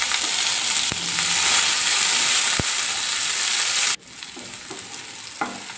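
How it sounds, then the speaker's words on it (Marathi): Garlic, curry leaves and green chili frying in oil with mustard seeds and cumin, a loud continuous sizzle with a few sharp pops that suddenly drops to a quieter crackle. "हिरवी मिरची, सर्व तेलामध्ये आपल्याला फ्राय करून घ्यायचं आहे।"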